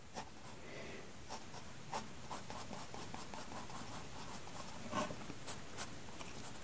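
A pencil draws a cylinder on paper with soft, close scratching strokes in a steady back-and-forth rhythm, a few sharper scrapes standing out, and no voices.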